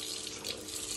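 Tap water running while hands are washed in a kitchen during bread preparation, a steady close hiss of flowing water with slight splashing variation.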